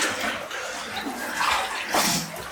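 Someone wades and splashes through water in an underground Soviet-era tunnel in Kiev, producing continuous close sloshing with louder surges as steps push through the water.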